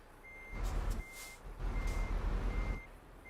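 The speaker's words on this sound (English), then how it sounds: "there is a train coming because I can hear the alarm, but that's me reversing" A truck's reversing alarm beeps in steady repeated tones at a level crossing, mixed with a low rumble of the idling truck engine; the beeps sound close and clear, with no talking.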